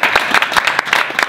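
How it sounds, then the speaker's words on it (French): A small group claps together in a short burst of applause at the close of a shared exercise at an employment workshop, the dense clapping close, steady and lively throughout with no talk. "on s'applaudit"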